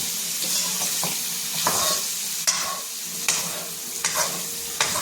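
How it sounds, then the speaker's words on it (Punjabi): Turnips and potatoes fry in a spiced tempering, a constant close sizzle broken by several sharp spoon scrapes and stirs against the pan, with no voices. "ਇਸ ਤਰ੍ਹਾਂ ਤੜਕਾ ਲਾਉਣ ਹਿਲਾਉਂਦੇ ਜਾਵਾਂਗੇ"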